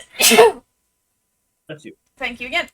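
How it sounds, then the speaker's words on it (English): A single loud, close sneeze bursts out, followed after a pause by brief speech. "I'm gonna sneeze."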